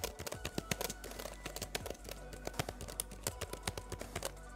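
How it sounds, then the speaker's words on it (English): Clicky keys on a thin, lightweight student laptop keyboard being tapped in a steady run of sharp, close clicks, alone with no talk. "I'll do a little key test here for you to hear that clickiness."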